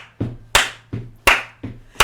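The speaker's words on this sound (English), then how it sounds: "You got to get your clap on" Sharp hand claps in a steady rhythm, about five distinct strikes in two seconds, close and loud with nothing else heard, at a gospel-style singing gathering.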